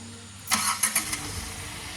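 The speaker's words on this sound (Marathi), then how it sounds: "गाडीची राईट मारायला लागलेत" A new car's engine starts with a quick cranking burst and a couple of sharp catches, then settles into a low idle nearby.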